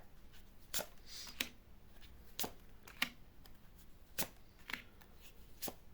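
Tarot cards are shuffled close up and quietly, with a series of short, crisp riffles and slaps spaced irregularly across a hushed room.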